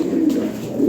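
Lahori Sherazi pigeons coo in a soft, low, rolling murmur, close by and moderately quiet, the throaty calls swelling and fading without any voices over them.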